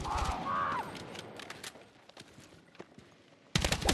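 Battlefield 6 gunfire crackles in short, sharp bursts, some distant and some close, with a loud volley at the end and faint shouted voices in between.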